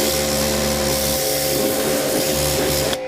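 A pressure washer sprays a 240SX engine bay with a loud, continuous hiss over a steady motor hum, cutting off abruptly just before the end.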